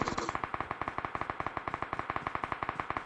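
Rapid automatic gunfire in a Minecraft game, a fast steady burst of evenly spaced shots running without a break, loud and close, with no talk over it.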